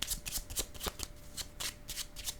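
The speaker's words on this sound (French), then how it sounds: "Je dépose une carte sur contrôle." Tarot cards are handled and laid down on a table, producing a quick series of crisp, papery slaps and flicks close by, roughly evenly spaced.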